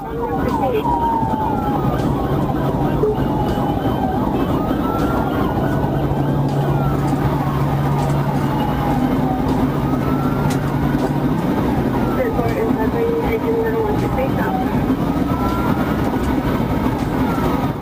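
Police patrol car siren wails on an interstate highway, rising and falling steadily and loudly for a long stretch, layered over heavy road and engine noise.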